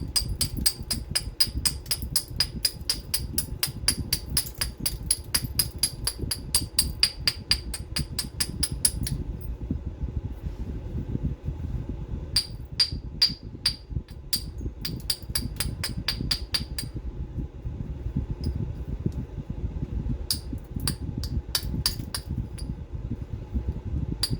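Blue glass being flint knapped, its edge trimmed into a Lancelot-type point: rapid runs of bright clicking taps, then scattered sharper ticks, close and crisp over a steady low background hum.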